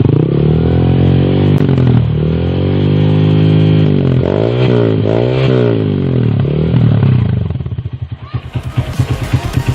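A Yamaha Verza 150 motorcycle fitted with an Akrapovic exhaust revs up and down in several close, loud swells, then settles into a choppy idle putter.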